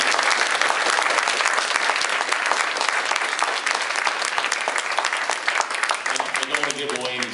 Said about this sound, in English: If you give them a nice round of applause